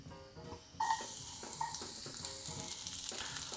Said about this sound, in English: I want to hear that sizzling sound when I put the garlic and the shallots in.